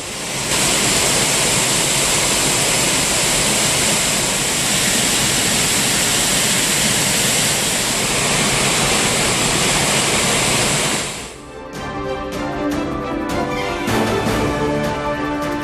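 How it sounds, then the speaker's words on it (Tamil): Heavy water roaring down the Courtallam waterfalls after heavy rain, a loud, steady broadband rush that holds for about eleven seconds and then cuts off abruptly. "கனமழையால் குற்றாலம் அருவிகளில் ஆர்ப்பரிக்கும் தண்ணீர்"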